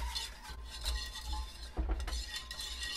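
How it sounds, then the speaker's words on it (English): Green chili sauce being stirred in a pan on medium heat: a utensil scrapes and clinks against the metal in a steady, uneven rhythm, close and fairly quiet, with a faint sizzle underneath and no talking. "Make sure you stir it in good."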